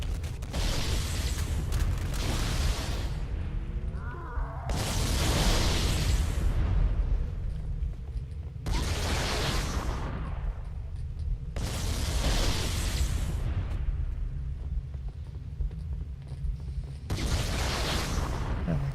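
Explosions in Halo CE, several heavy booming blasts going off one after another at irregular intervals, each a loud burst that rumbles out before the next, with quieter game ambience in the gaps.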